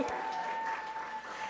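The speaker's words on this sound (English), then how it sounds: "And Ryan Niffler, oh yeah, individual claps." A few scattered individual claps rise from the audience at a Unitarian Universalist church service, faint and sparse over a steady room hum.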